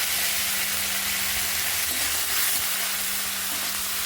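Curry leaves frying in a pan for pirandai thuvayal, giving a dense, loud, continuous sizzle and crackle with a low steady hum underneath, close and without talk.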